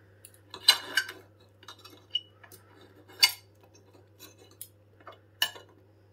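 Metal fork clinks and scrapes against a plate while handling turkey rashers, several sharp close taps scattered irregularly over a quiet background with a low steady hum.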